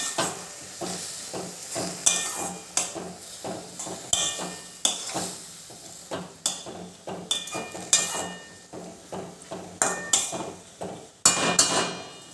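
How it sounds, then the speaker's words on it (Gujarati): A spoon stirring turmeric into green onion, green garlic and sev curry in a pan, regular scraping knocks against the metal about twice a second over a soft sizzle, close and fairly loud; no talking. "હવે આને એક વખત સરસ હલાવી લેવાનું છે"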